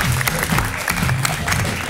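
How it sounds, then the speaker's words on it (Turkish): Applause from the studio audience of the Turkish late-night show İbrahim Selim ile Bu Gece, a loud, continuous clapping roar with some crowd noise and faint voices underneath. "Hanımefendiyi alkışlarken hanımefendiyi de alkışlıyoruz"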